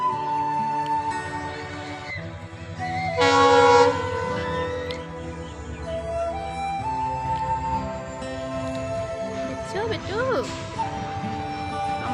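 A train rumbles past near a railway station with a long sustained horn blast, wheels clattering along the rails, while people talk nearby.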